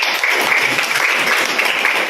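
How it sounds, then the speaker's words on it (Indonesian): A classroom of students applauds during a science lesson on magnetism, steady dense clapping filling the room at even loudness from start to finish. "Oke, pada Safina tepuk tangan"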